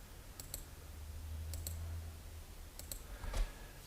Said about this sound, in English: Start with a left click and then right click all the way around for curved